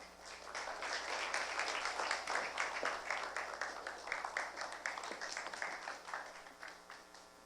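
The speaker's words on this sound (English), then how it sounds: "Please welcome Dr. Lim with a big round of applause." Audience applause welcoming a keynote speaker at a cybersecurity forum: a soft, steady wash of many hands clapping, heard from a distance and easing off near the end.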